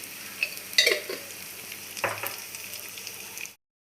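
Tamarind gravy with turmeric sizzles quietly in oil in a pan for pulihora, a soft steady fry broken by a few brief stirring clatters before it cuts off abruptly.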